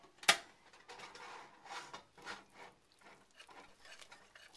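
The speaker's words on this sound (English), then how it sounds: "just mix it around until all the cheese is melted" A spoon stirs cheese in a pot, off the heat, until it melts for Super Bowl nachos: a sharp clack at the start, then soft, uneven scraping and rubbing strokes, close and fairly quiet, with no talking.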